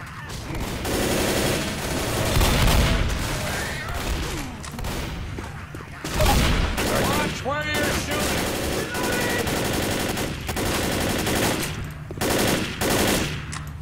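Sustained automatic gunfire in a cooperative zombie shooter, with long rattling bursts and overlapping shots that keep going almost throughout, mixed with game effects and occasional voices.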